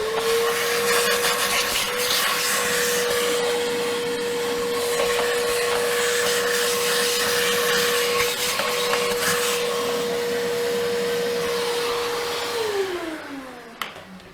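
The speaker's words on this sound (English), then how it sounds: "Now there's a bunch of stuff in here that I'm gonna have to try to vacuum out." A shop vacuum runs steadily and loudly while sucking debris out of a Kawasaki KLR 650 motorcycle airbox fouled by a mouse nest, holding a constant whine before winding down near the end.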